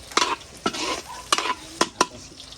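Garlic and onion stir-fry in a pan for chicken feet adobo, with a short burst of sizzling and several sharp scraping spatula strokes in quick succession, close and moderately loud.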